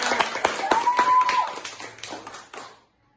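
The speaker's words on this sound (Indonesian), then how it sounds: "aplaus dulu dong teman-teman" Small audience clapping at an indoor talk, a short burst of scattered applause that swells, then thins out and stops after about three seconds, close and moderately loud.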